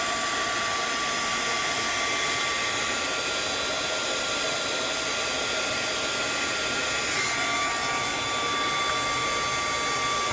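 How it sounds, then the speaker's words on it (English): A heat tool blows a steady, loud, even hiss of hot air while softening the glue binding of an adult coloring book, running without pause throughout. "So I'm pulling with one hand here and holding the heat tool"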